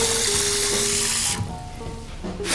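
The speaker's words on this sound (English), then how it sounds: "We're just gonna fill it up with some water." Cold tap water pours steadily into a lemonade pitcher holding mixed juice and simple syrup, a broad close rushing stream that briefly thins and shifts pitch as the pitcher fills.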